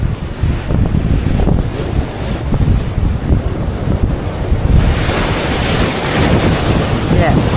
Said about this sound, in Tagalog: Malakas yung hangin mga kaibigan.